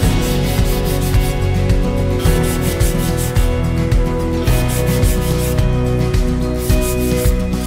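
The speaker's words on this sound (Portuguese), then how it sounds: "Aí eu venho com uma lixa, pode ser lixa de papel, lixa de espuma, a lixa que vocês tiverem, numa gramatura mais ou menos um 360, 280, aí a gente vai lixar." Sandpaper of roughly 280 to 360 grit is rubbed over a handmade craft box in loud, close, rhythmic back-and-forth strokes. The steady, even scratching continues throughout with no voices.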